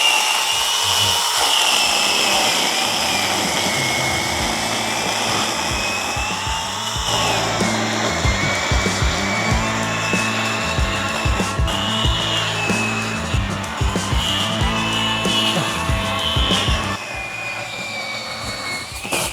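A high-pitched electric pole saw whines steadily, its motor straining and bogging in uneven bursts as it cuts into a thick branch, loud and close.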